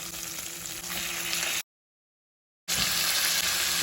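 Chicken frying in a pan with ginger and garlic, giving a loud, constant sizzle up close that cuts out completely for about a second before resuming.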